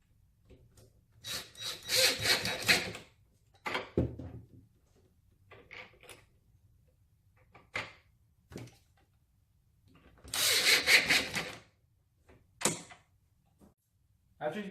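An H12 screw is driven to secure the slide scorer on a foosball table, giving two longer bursts of grinding, rasping turns separated by short scrapes and clicks, close and fairly quiet in an otherwise still room.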